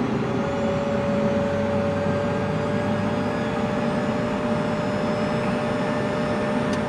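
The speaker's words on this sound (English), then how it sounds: "We'll try it again with just the right engine running" Inside a Citation CJ3+ with only the right jet engine running, a steady, loud turbine roar with a sustained whine holds constant throughout, no voices over it.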